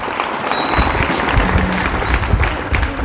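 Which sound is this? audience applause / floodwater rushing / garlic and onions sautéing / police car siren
audience applause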